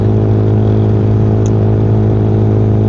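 A Yamaha Sniper 155 motorcycle is ridden on the road, its engine holding a loud, steady droning note with constant rushing noise and no pauses.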